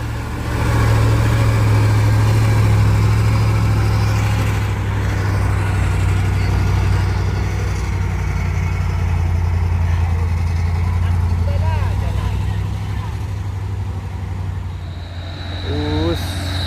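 A truck engine drones low and steady on a steep hill climb at Bukit Kodok, a heavy continuous hum that eases slightly toward the end, with people talking over it.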